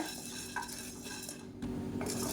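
Chana dal dry-roasted in a pan while being stirred, heard as a close, steady rustle and clatter of lentils and utensil scraping against the metal, with no talking.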